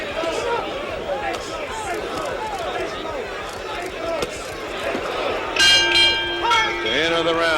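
At a 1976 heavyweight boxing match between Muhammad Ali and Ken Norton, the ring bell clangs near the end to close the round, ringing over crowd roar and a commentator's talk.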